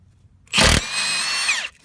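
Milwaukee high torque 2767 impact wrench at 1400 foot-pounds removing a tight wheel nut: a loud, close burst of hammering lasting about a second, starting with a sharp harsh crack and ending with a short motor whine as it winds down.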